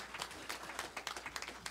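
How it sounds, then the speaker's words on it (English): A church congregation at a Mother's Day service claps hands in praise, quick scattered claps at low level, somewhat distant and brief. "Let's give the Lord another hand clap of praise"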